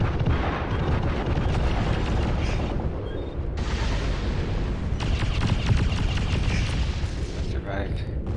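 Weapon fire and explosions rage in the MechWarrior Living Legends game during a bunker assault, with dense booms and crackling bursts in near-continuous waves, loud and close, with brief lulls between volleys.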